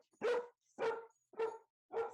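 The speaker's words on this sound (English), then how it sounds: "Someone should really train that dog." A dog barks four times at an even, steady pace, each bark loud, close and short, with silence in between and no voices.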